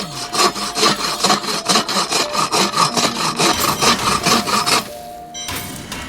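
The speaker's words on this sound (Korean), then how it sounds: "어디선가 톱질 소리가 들려옵니다." A carpenter in the Diablo 3 video game saws through wooden boards with a hand saw: fast, even back-and-forth strokes, roughly a dozen and a half rasping passes, close and loud before the cutting stops.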